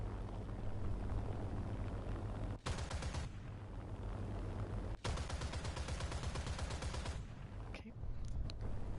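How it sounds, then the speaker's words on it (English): An aircraft nose cannon fires in War Thunder in two sustained bursts of rapid, loud gunfire over a steady engine drone, with a few brief cracks near the end. "try to take out this thing with our nose cannon."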